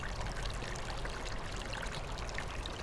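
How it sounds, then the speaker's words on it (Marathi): Water of an underground stream gurgles and pours steadily without pause, a continuous broadband rush that stays even and fairly close throughout, with no voices. "आवाज खळखळणाऱ्या पाण्याचा आहे."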